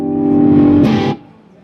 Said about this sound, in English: So I've got the amplifier basically full blast with the gain on 8